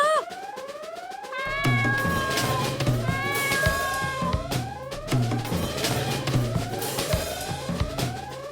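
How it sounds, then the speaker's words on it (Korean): Repeated high gliding cat meows sound in a children's story about a country mouse and a town mouse, layered over busy music and sound effects, loud and continuous throughout. "그런데 이번에는 야옹! 고양이가 나타났어요."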